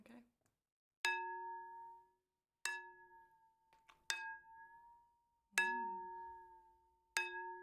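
A spoon strikes a ball floating in a container of water five times in a slow, uneven rhythm, each hit a clear, bell-like ping that rings and fades, close and alone.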